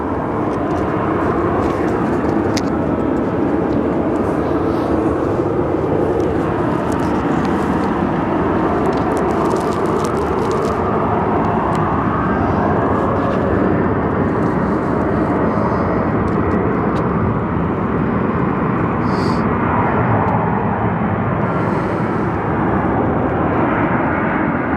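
Aircraft engine roar from a plane departing Phoenix Sky Harbor Airport, a loud, steady broadband rumble sustained throughout without speech.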